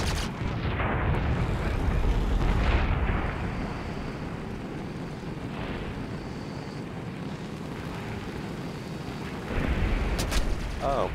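Aircraft bombs released in War Thunder, a loud rumbling roar of engine and explosions over most of the stretch with a renewed burst near the end.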